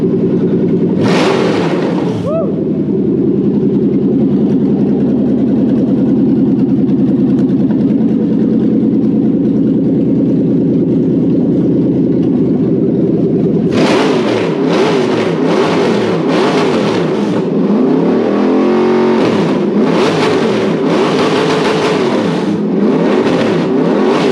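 A Toyota 1UZ-FE VVTi V8 car engine idles steadily for a long stretch, then a series of sharp revs rise and fall in quick bursts, loud and close.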